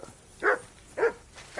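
Three evenly spaced dog barks from the video game Kingdom Come: Deliverance 2, moderately loud and close, each a short single bark with quiet gaps between and no talking over them.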